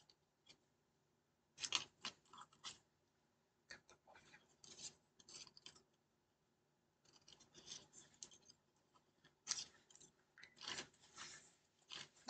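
Card-making paper being cut with scissors, quiet close snips and rustling paper coming in short irregular bursts separated by pauses.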